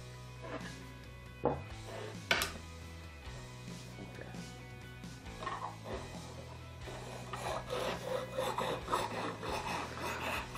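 Knife blade dragged repeatedly over a whetstone held in a 3D-printed sharpener with a magnetic angle guide, producing steady gritty rasping strokes in an irregular rhythm, close but fairly quiet, with no talking.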